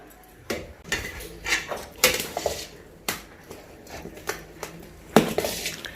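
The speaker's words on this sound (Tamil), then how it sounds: "முதல்ல கரண்டியால் கலந்து விட்டுக்கலாம்." Sliced onions are mixed with a ladle, giving irregular clacks and scrapes against the vessel, sharp knocks spaced a second or so apart over a quiet background.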